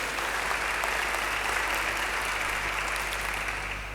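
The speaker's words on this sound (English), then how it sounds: "Can we have another round of applause for our Rector and Vice Chancellor, our host here today?" A round of applause for a rector and vice chancellor at a university media society launch: dense, loud, sustained clapping from a large audience, steady throughout and easing slightly at the end.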